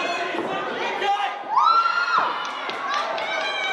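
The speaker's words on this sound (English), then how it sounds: "Crowd showing their support." Pro wrestling crowd cheering at an indoor match, a loud mix of shouts, whoops and a rising high-pitched yell from fans, continuous and fairly close throughout.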